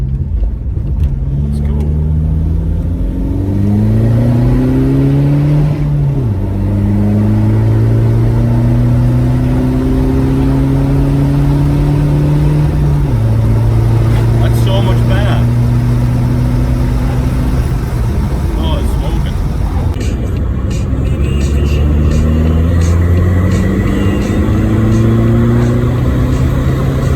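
A turbo diesel SEAT Leon with an updated boost map pulls hard in second gear on open road, engine note climbing steadily through several rising sweeps, loud and close from inside the car.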